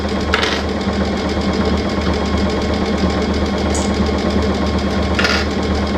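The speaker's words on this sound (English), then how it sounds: "So I'm just sewing down this outer edge." A sewing machine stitches down the outer edge of a fabric hair towel, a loud, steady close-up whir that runs throughout with a couple of brief higher clicks and no talking.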